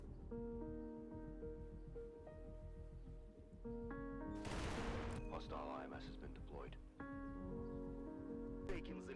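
AK rifle shots in a Roblox first-person shooter, a few sharp bursts of gunfire cutting through background game music, fairly quiet overall, with a voice talking over the action.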